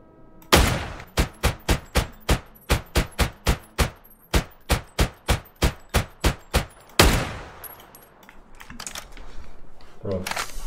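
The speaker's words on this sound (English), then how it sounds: "This looks like a perfect spot to practice the sniper." Sniper rifle fire in a shooter video game, a long string of sharp, evenly spaced loud cracks, then a heavier blast and fading rumble with rustling.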